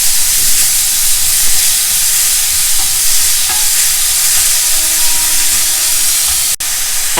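Finely chopped onion, crushed ginger and green chilies frying for South Indian palak rice, with a loud, steady close sizzle and hiss throughout and faint stirring beneath it.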